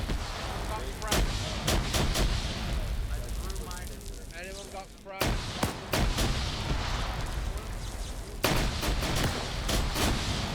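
Heavy grenade blasts and bursts of gunfire from a WW2 video game battle, dense and repeated over a rumbling background, with voices talking underneath.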